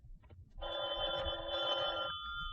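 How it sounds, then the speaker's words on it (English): A telephone bell rings in a late-night apartment in a 1950s radio drama, one sustained loud metallic ring lasting about a second and a half, after a quiet start. "I was just about to turn in when the phone rang."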